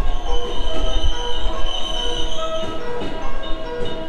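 A steady rumble of a moving train in Osaka, Japan, with high, sustained wheel squeals ringing over the rolling noise, loud and close.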